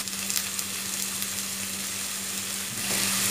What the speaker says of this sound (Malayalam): എന്നിട്ട് ഇതൊന്ന് നന്നായിട്ട് നമുക്ക് വഴറ്റിയെടുക്കാം.